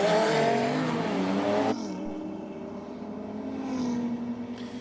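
JM Auto Repairs Audi race car accelerating down a drag strip, a loud, steady engine roar that drops off sharply partway through and carries on as a lower, more distant drone.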